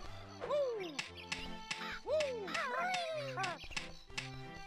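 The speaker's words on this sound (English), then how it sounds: "I hear Eerie up there squawking" Eyrie the eagle in Banjo-Kazooie lets out a series of sharp, rising-and-falling squawks, about four loud calls spaced over a few seconds amid game sounds.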